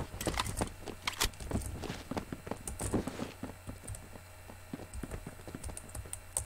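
Computer keyboard typing during a Phantom Forces game session, with rapid irregular clusters of close key clicks and short pauses, continuing throughout at moderate level.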